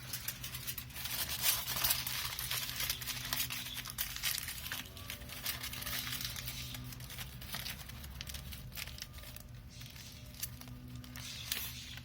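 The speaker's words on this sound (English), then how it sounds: "Then the tin foil goes on." Tin foil is crumpled and pressed over a plastic bag covering engine parts in a car engine bay, close, irregular crinkling and crackling with short tearing bursts throughout.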